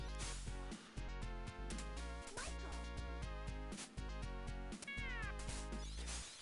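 A cat meows in the Sega Genesis game Michael Jackson's Moonwalker, a short synthesized cry riding over loud, driving chiptune music that dominates the whole stretch.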